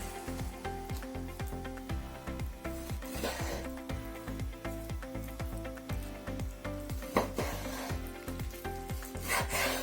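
A knife saws through oven-cooked meat steaks for shashlik on a board, giving a close, rhythmic run of short scraping strokes, several per second, with occasional louder thumps.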